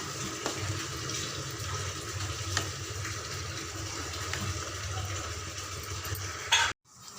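Soaked meal maker soy chunks being rinsed and swished in plain water, a steady close-up sloshing and splashing that runs continuously for several seconds before stopping abruptly.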